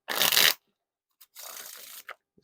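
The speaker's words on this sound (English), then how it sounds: "No issues with the riffle shuffles or bridge shuffles there." A deck of Red Bicycle Chainless playing cards is riffle shuffled close up: a short, loud burst of fluttering cards, a pause, then a softer, longer flutter ending with a light tap.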